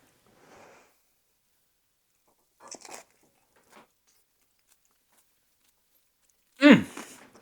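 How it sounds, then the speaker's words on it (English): A single crunchy bite is taken into a barbecued onion stuffed with a sausage meatloaf filling, coming as a short, close, crisp burst after a few faint handling noises in near silence. "let's give it the old-fashioned chomp and see how we did"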